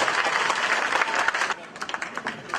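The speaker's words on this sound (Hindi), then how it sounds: "एक बार जोरदार तालियों से इनका इस्तेमाल कीजिए।" A crowd at a political rally claps loudly in dense, sustained applause that thins out into scattered, uneven claps toward the end.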